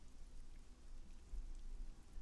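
Soft steady rain falls as an ambient effect, a faint, quiet hiss of drops with a low rumbling undertone, continuous and unbroken, with no voices.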